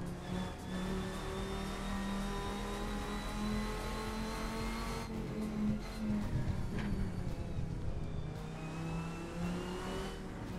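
A race car in the Assetto Corsa driving sim revs and shifts through gears, its engine tone climbing and dropping in steady sweeps at constant loudness for the whole stretch, with no talk.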